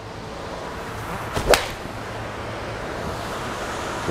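A Mizuno MP-20 HMB iron strikes a golf ball outdoors, giving a single sharp crisp click near the middle, preceded by a brief swish, over steady wind noise with no talking.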